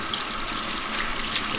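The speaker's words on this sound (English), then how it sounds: "We got it inside now with some warm water." Warm water runs steadily from a tap over a pleated rainbow tie-dye tee being rinsed indoors, a continuous close splashing trickle with small droplet sparkles and no talking.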